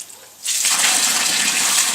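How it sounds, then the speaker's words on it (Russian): Water pours steadily into planting holes for roses in a Siberian garden. After a brief quiet start it becomes a loud, continuous gushing splash lasting to the end, with no voices. "Так, поливаем наши ямки."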